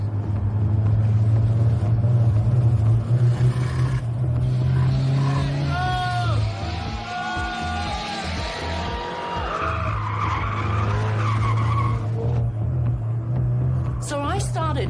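A supercar with a driver at the wheel accelerates hard and takes corners quickly, its engine rumbling loudly and its tires skidding and squealing, while people talk excitedly over the drive.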